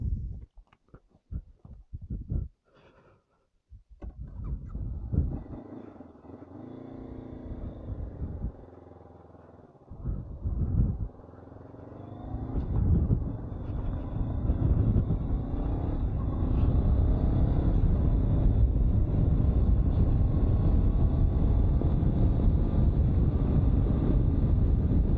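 A 2022 Honda CB500X motorcycle pulls away and gets up to speed. Engine rumble and rising wind roar build steadily into a constant loud blast of wind against the helmet mic.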